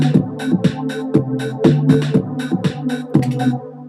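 A synth pad chord pattern plays in Logic 9, with rhythmic chord stabs that pulse at a steady tempo and bright upper tones over sustained low harmonics.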